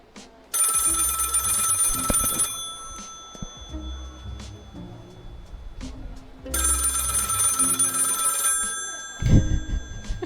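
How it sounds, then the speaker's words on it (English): A telephone rings in the video game Lil Guardsman, sounding as two long, loud bursts of bright electronic ringing separated by a quieter pause, with a short low thud near the end. "Pick up the phone, Ames."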